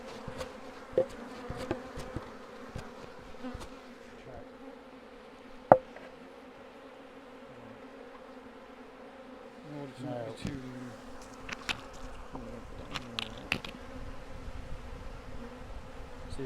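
Honeybee colony buzzing steadily during a rescue from a chimney, a dense droning hum held throughout with occasional taps and knocks, faint handling noises and brief quiet voices in the background.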